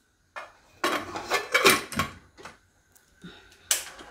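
A pressure cooker lid is fitted and locked shut over potatoes in water in a home kitchen, giving a short run of close metallic clanks, scrapes and clicks followed by a final sharp knock.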